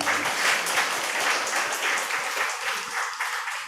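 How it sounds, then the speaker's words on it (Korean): Sustained applause from a church congregation for the conductor after a choir performance at a service, steady dense clapping filling the room for several seconds, tapering slightly toward the end. "지휘자한테 박수 한번 쳐봐요."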